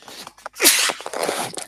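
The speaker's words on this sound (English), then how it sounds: "pardon me for sneezing" A single sneeze bursts out sharply, loud and close, followed by a brief rustle and breathy noise, with no talking.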